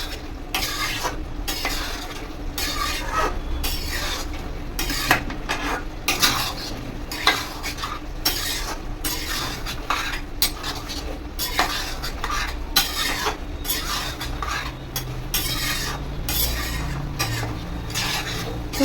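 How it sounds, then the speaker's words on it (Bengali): Spoon stirring a cornflour mixture in a pan on a gas stove, steady rhythmic scraping and clinking close by with a light sizzle underneath, continuing without any talk. "দিয়ে এবার নাড়তে থাকবো।"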